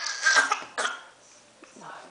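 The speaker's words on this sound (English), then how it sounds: "he got a little fake cough this morning" A baby boy gives two short, forced little coughs in quick succession, close and fairly loud, followed by softer breathy noises.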